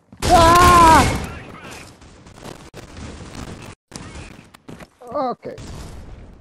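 Gunfire in the mobile shooter Critical Ops: a loud, dense burst of shots up front, then scattered quieter cracks and pops over the following seconds, with brief gaps of near silence.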